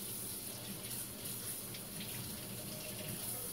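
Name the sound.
water running from tap while rinsing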